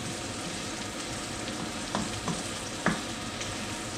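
Eggplant stir-frying in oil in a pan, a steady close hiss and sizzle with a few soft clinks and scrapes from stirring partway through.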